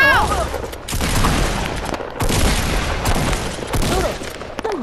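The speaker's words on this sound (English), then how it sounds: "They're shooting." Dense bursts of gunfire crackle through a Fortnite match, loud and nearly continuous, with game effects sweeping over them and a voice talking in the background.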